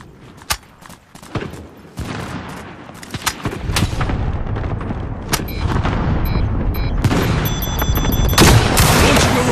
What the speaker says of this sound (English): Cluster strike arriving.